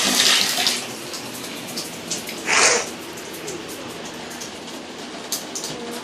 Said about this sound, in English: It just leaked everywhere because the faucet thing wasn't straight.